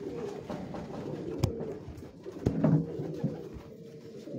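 Domestic pigeons of an old breed give low, rolling coos close by, in a continuous murmur punctuated by a few sharp knocks.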